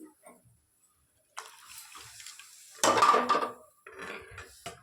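Water splashes and runs into a metal pan with clinking cookware, 2.5 cups poured, a loud pour in the middle followed by quieter trickling and clatter.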